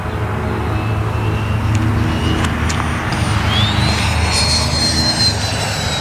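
A Freewing F-22 RC model jet makes a slow pass at a club field at dusk, its ducted-fan whine rising and sweeping steadily over a constant broadband rush at moderate distance, with no speech.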